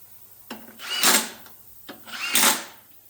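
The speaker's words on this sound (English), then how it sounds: "So I'm not winding these in as tight as I go. These are aluminium castings and you can strip the threads" Two short bursts from a power tool driving bolts into an aluminium gearbox casting on a Vauxhall F16/F20, each starting with a click and then whirring up and down, close and fairly loud.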